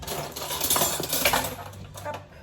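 A metal spoon clinks and scrapes against a dish while cauliflower and leek are being portioned, a run of light clattering taps, fairly close, with no talking.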